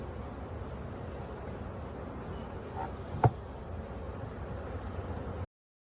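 Honey bees drone steadily during a July hive inspection as frames of honey are handled, a continuous low hum with one brief sharp knock partway through before the sound cuts off.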